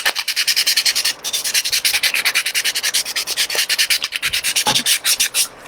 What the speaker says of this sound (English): I just cut the sandpaper into pieces that I can hold, and then just applied it, sanded it like this